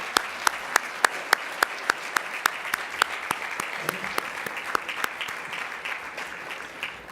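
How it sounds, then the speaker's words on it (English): An audience at a palliative care discussion event gives a round of applause, sharp distinct claps that start sparse and even, then thicken into a steadier patter before fading. "I think we owe you an advance round of applause for what may be a long evening."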